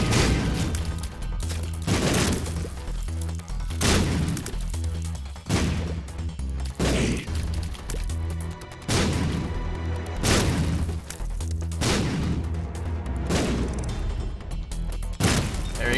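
Bombs go off in The Binding of Isaac: a steady series of heavy booming blasts, roughly every second or two, each a sharp loud burst over a constant backing of game music.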